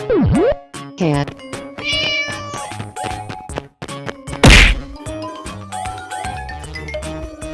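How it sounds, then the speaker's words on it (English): A cartoon cat meows in a farm-animal transformation sequence, several short pitched meows mixed with thwacks, dings and other cartoon effects, with a voice naming words between them. "Cat."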